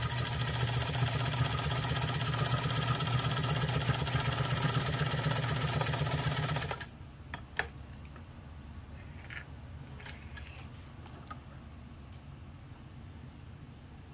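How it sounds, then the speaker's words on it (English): A Japanese Precision President heavy-duty sewing machine with a heavy-duty needle stitches through cowhide leather, a loud steady whir for several seconds that stops abruptly, followed by quiet handling clicks. "And let's sew through a piece of cowhide."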